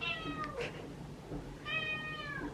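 A cat meows several times, high and drawn-out, with a pause between calls; no one is talking.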